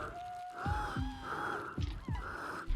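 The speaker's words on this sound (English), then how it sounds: "Heavy breathing." A frightened character in the Ghost Master video game breathes heavily, several sharp ragged gasps in quick succession over a steady background hum, with no talk.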